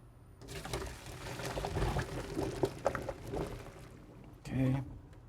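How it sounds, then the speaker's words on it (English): Boiled pasta being drained, with hot water pouring and splashing steadily at close range for a few seconds, a kitchen clatter, and a brief louder rush near the end. "Now I'm going to drain my pasta."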